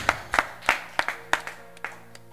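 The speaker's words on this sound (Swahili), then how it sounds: "Chapia Bwana Yesu makofi." A church congregation claps together in a steady rhythm, about seven sharp claps in a little over two seconds, close and clear.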